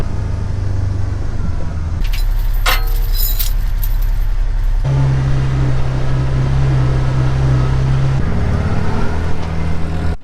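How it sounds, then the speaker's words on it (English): A side-by-side utility vehicle on the move, its loud, steady engine drone filling the whole stretch, with shifts in pitch and load at a few points and light rattling over the top, heard from on board. "And I need the side-by-side anyway, so it's a good reason to go for a ride."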